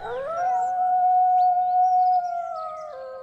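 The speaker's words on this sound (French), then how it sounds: "un petit grognement qui vient des buissons la ramène à la réalité" Wolves in the bushes give a loud, clear howl that rises at the start, holds a steady pitch for about two seconds, then tapers off, with no other sounds around it.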